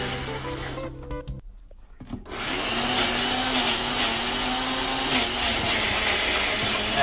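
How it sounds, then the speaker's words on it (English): After a quiet, scrappy start, a blender roars up to full speed and runs steadily, blitzing two cheeses with garlic and olive oil into a paste, with no talk over the motor. "I've got the two cheeses, we've got the garlic, bit of olive oil, and we're going to blitz it all up."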